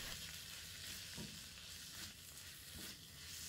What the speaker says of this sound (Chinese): 然后我们继续开大火，快速的给它翻炒一下